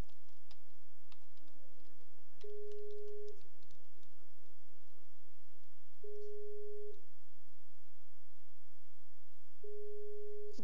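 Telephone busy signal heard while calling a friend, three evenly spaced tones about every three and a half seconds over faint clicking.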